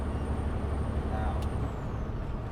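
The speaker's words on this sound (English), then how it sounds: "Start putting a little brake on it and slow it down" An auto shift truck slows on a farm hill in Montana, a steady low rumble of engine and road noise with a brief hiss of brakes partway through, heard from inside the cab.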